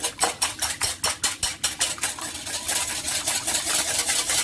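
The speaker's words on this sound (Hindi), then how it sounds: "इसके अंदर मैं दोनों अंडे डालूंगी, इसको मैं हल्का सा बीट करूंगी" Two eggs lightly beaten in a bowl, a quick regular run of close clinking strokes, sharp and rhythmic at first, then blurring into a faster, steadier whisking.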